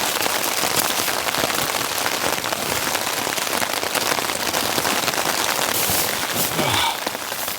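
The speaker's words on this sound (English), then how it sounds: "It's still sleety rain." Dense, steady patter of sleety rain drumming on a tent fabric during a winter snowstorm, loud and close, continuous throughout with no voices.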